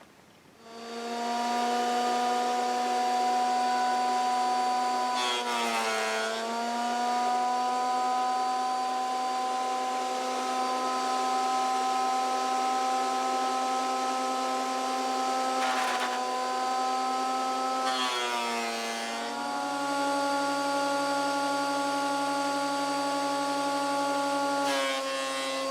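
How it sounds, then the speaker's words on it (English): Planer thicknesser running while guitar neck and fingerboard wood are fed through, a loud steady machine whine with brief shifts in pitch as boards pass the cutter, continuous throughout. "So that's our neck and our two fingerboards put through our planer thicknesser,"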